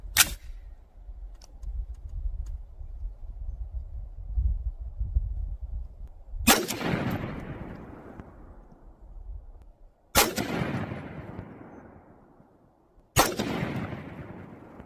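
Four sharp, loud rifle shots of 5.56 55-grain full metal jacket fired while zeroing an optic, each a sudden crack with a long fading echo, spaced several seconds apart.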